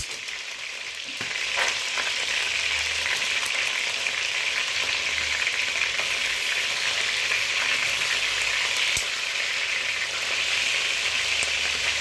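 Chicken fries loudly in a pan, a dense steady sizzle with a few sharp knocks as pieces are turned over, close and continuous with no talk.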